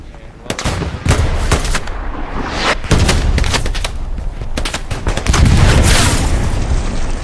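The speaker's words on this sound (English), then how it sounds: "With all that artillery going on though, you might not hear him." Repeated gunfire and booming artillery blasts in the WWII shooter Hell Let Loose during a competitive console match, sharp cracks and bursts falling every second or so over a constant loud rumbling battlefield din.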